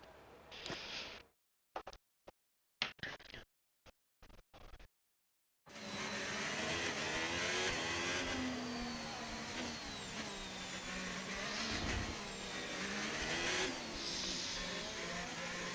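An F1 race car in the F1 25 video game screams down the back straight at Miami during practice, a loud sustained high-pitched engine whine with rising gear pitches, after a short choppy burst of clipped game audio.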